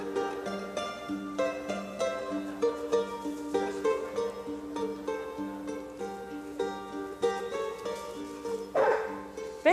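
Several dogs bark and yip at a meeting between dogs, with a big Rhodesian among them, giving rapid overlapping barks at moderate distance, fairly faint but continuous, with a sharper yelp near the end.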